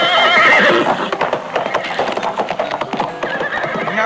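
Several horses neigh loudly and stamp in fright, with dense clip-clopping hooves over a busy, close mix of whinnies throughout.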